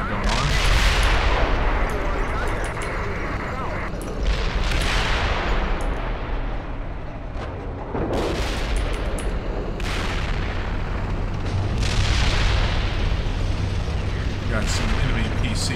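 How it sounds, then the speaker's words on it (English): Indirect artillery fire booms in the Steel Beasts tank combat game, with heavy explosions landing every few seconds over a constant low rumble of engines and battlefield noise, loud and continuous. "got some indirect fire going on"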